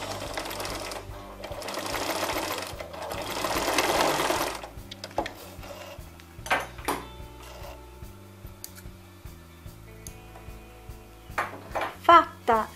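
A sewing machine runs in steady bursts while stitching bias binding onto a V-neckline, loud and close for the first few seconds, then gives way to scattered clicks and light handling noises.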